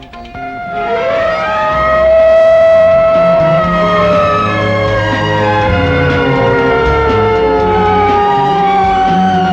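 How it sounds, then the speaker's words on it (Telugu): A loud wailing siren with sweeping, gliding tones rises and falls continuously, close by and steady throughout, with a low engine rumble beneath. "madam did you call for the ambulance"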